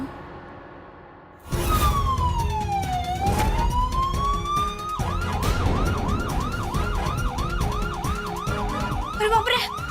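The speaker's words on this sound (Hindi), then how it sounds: "अरे बाप रे, एम्बुलेंस आ गई।" An ambulance siren wails loudly nearby, first sweeping slowly up and down, then switching to a fast repeating yelp, with traffic rumble underneath.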